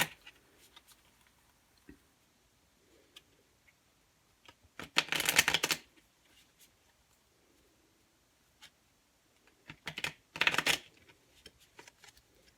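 Two brisk bursts of tarot cards being shuffled, several seconds apart, with faint handling noises in the quiet between them.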